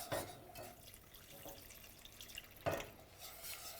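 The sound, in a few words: pouring milk into flour and butter roux for bechamel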